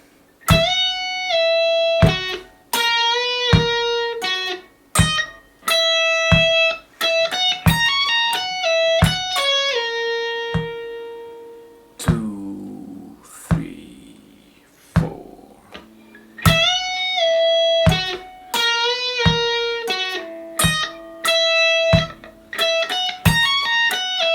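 Distorted electric guitar plays a lick from the start: fast, precise runs of sharply picked notes broken by short stops and a wavering bent passage midway, loud and close with no talking.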